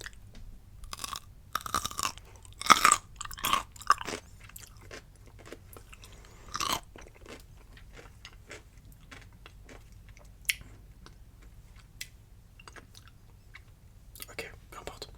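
Crisp crunchy pickles chewed close up in bursts of sharp crunches and wet bites, loudest in the first few seconds, then quieter chewing with occasional soft whispered speech.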